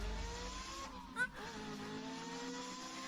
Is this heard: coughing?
no